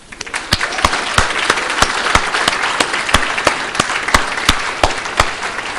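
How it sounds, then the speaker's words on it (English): Audience applause for the winners at the 2018 North Dakota FFA parliamentary procedure finals: a crowd claps steadily while a few loud, evenly spaced claps cut through in a regular rhythm. "Let's get another round of applause for our winners here"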